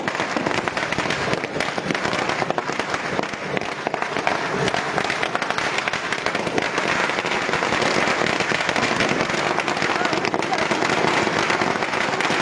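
Firecrackers burst in a dense, continuous crackling barrage at an outdoor political victory rally in Surendranagar, loud and close, with crowd noise mixed in.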